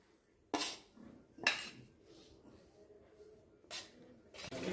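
A spoon mixes mashed potato with the soya chunk cutlet ingredients in a bowl, giving a few sharp, separate clinks against the dish with quiet stirring between them.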